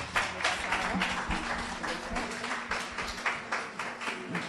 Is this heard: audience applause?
yes